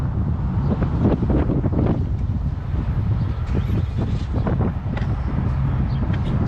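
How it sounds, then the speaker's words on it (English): Strong wind buffets the microphone in a steady loud roar with gusty rumbles at an RV camping area in Quartzsite, continuing without pause. "It has been a little windy here."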